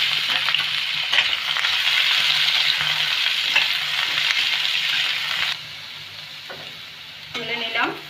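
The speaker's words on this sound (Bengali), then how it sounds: "ওই তেলে আমি এঁচোড়টাকে একটু ভেজে নেব হালকা।" Raw jackfruit pieces fry lightly in hot oil, giving a steady close sizzle with stirring scrapes that drops quieter near the end and then briefly rises again.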